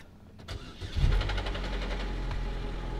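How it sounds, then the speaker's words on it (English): An old, worn-out scrap car engine cranks and catches, then settles into a rough, loud idle with a low knocking rumble, close up with no talk. "You hear that knocking noise when I first started it?"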